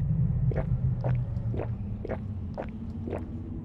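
Eating and drinking sounds from the video game Zompiercer, a steady series of five wet, squishy gulps at an even rhythm over a low rumbling background.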